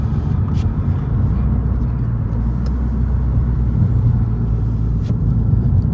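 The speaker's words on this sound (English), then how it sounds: "that is a lot of vibration right there" A low, steady rumble and droning vibration inside a Honda Prelude from a worn rear engine mount continues throughout, with occasional faint rattles and clicks on top.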